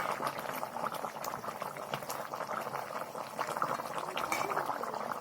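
Fish curry of cut rohu-style pieces bubbling in a pan, a steady close rolling boil with dense popping and gurgling throughout, fairly loud and continuous with no talk.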